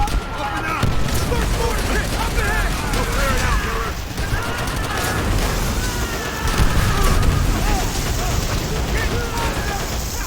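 Grenade blast in World at War combat, booming close and loud among continuous rattling gunfire, with voices shouting over the battle.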